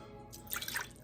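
Half a cup of water being poured for bagel yeast, a short quiet trickle and splash lasting under a second after a brief silence, with no speech.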